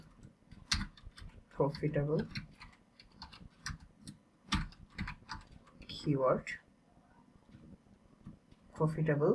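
Text is typed on a computer keyboard in scattered bursts of sharp clicks, with someone talking intermittently between and over the keystrokes.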